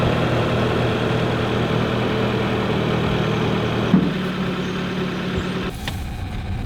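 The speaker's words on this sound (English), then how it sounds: "let's see if the pickup truck that I've been letting sit here for a while, if the exhaust is kind of cured" A pickup truck engine idles close by after its exhaust leak was patched, a steady low rumble that runs evenly with a small knock midway and a slight drop near the end.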